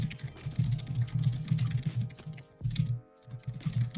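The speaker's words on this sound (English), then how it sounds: "Oh, it's your typing I'm hearing." Rapid, steady clicking of keys on a computer keyboard, close by, with a low hum underneath and a brief pause near the end.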